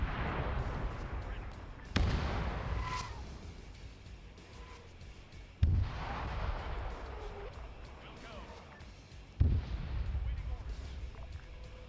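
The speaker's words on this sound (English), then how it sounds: "spawn additional units while there's an artillery barrage going on" Artillery barrage in a war video game: three distinct sharp, heavy blasts spaced a few seconds apart, each followed by a rumbling decay, with someone talking quietly throughout.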